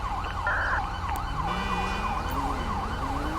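Wailing ambulance siren in the video game GTA V with the LSPDFR police mod, sweeping steadily up and down and loud throughout, over a low engine drone with a rising engine pitch underneath.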